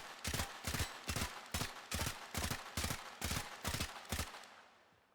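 Dex Furis pistols fire in the Warframe video game in about nine rapid, evenly spaced bursts of sharp crackling shots. The shots are loud and close, with no voices, and a brief tail fades out after the last burst.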